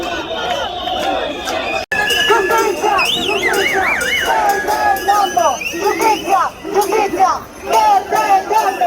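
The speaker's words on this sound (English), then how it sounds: "This crowd goes back as far as you can humanly see. This is absolutely massive." A massive crowd of protesters fills a historic Milan piazza, a dense roar of chanting voices and whistles, loud and continuous, with rising and falling chant waves throughout.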